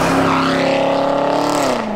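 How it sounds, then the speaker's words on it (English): A 2019 Corvette C7 Z06 supercharged V8 revs loudly with a rich, rising and falling exhaust tone, close by and continuous, dropping in pitch at the end. "Engine, power, and exhaust note."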